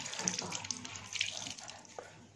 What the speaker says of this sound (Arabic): هنزل بقى منه الصابون كويس جدا